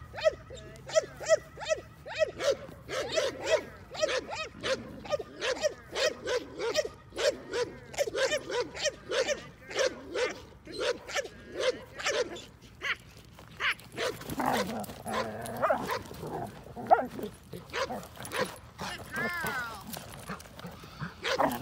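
A German Shepherd barks in a long series of rapid, loud, close barks through the first half, then quieter whines and yips follow, with some background voices.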